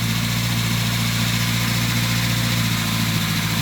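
A carburetted Renault 5 GT Turbo engine idles smoothly and steadily after restarting, with a loud, even, low throbbing hum close by and no voices.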